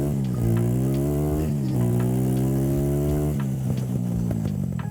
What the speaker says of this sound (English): let's go ahead and start her up and see our top speed